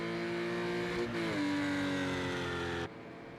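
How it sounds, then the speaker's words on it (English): A Porsche race car engine during qualifying, a loud sustained high-revving howl with rich harmonics held near the limiter, a brief stutter and pitch step partway through, then cutting off sharply toward the end. "Porsche getting stuck on the rev limiter."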